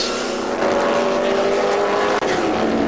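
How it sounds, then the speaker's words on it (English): Gordon Gimbel's 4.7-liter Lotus 19B race car with a 289 Ford V8 at the Monterey Historics, a loud steady engine roar that holds as the car runs the uphill turn, with a brief cut near the end. "So that'd be a Lotus with a 289 Ford under the hood."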